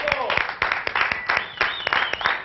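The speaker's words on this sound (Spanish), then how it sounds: "yo quiero un gran aplauso" Clapping from a small gathering, a handful of sharp, uneven claps at close range with a voice talking over them throughout.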